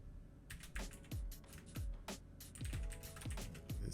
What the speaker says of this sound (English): we're just going to type in a few words here and there